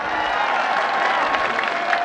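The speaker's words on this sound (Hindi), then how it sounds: "भरपूर तालियां।" A crowd at a political rally in Mianwali claps and cheers in a continuous, dense roar of applause that holds steady and fairly loud throughout.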